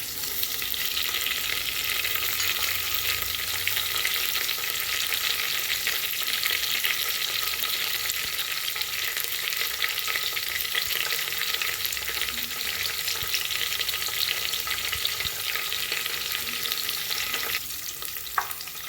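Green chilies and curry leaves frying in oil in a pan give a steady, dense sizzle that crackles continuously with no voices.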